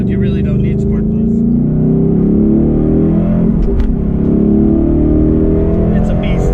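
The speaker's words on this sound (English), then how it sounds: "So right now I got the car in Sport Plus to make it a little more lively." Car in Sport Plus mode, engine rumbling steadily and loudly up close, with a rising drone and some roar from the drive.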